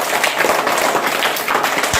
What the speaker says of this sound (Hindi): तालियां बजा दीजिए इसके लिए